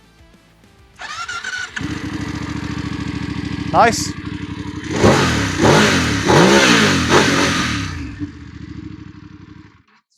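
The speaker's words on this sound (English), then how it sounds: "It's very throaty. There's a lot of noise coming from the engine block" A Voge DS900X twin-cylinder motorcycle engine starts with a clatter, settles into a throaty idle, then revs hard several times in quick bursts before dropping back; a brief word is spoken.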